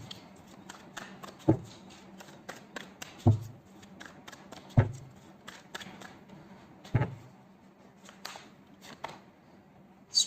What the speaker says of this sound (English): Cards are flying.